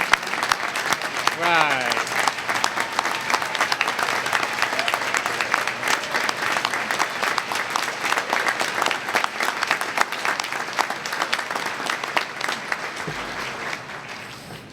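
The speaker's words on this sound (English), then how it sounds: "I think that's the biggest standing applause I've ever received" Long, loud standing applause from the audience at a fall quarter graduation ceremony, dense continuous clapping that thins slightly toward the end, with a brief spoken word near the start.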